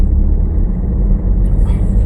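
A car engine hums and rumbles steadily from inside the cabin during a driving lesson, loud and low with a slight rise in revs, and no speech.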